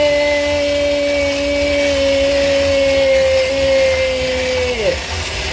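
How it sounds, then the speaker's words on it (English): An electric mixer runs steadily in a mixing bowl of batter, a loud continuous motor whine that holds its pitch for several seconds before dipping and winding down near the end. "And in the mixing bowl, and we're going to mix some more."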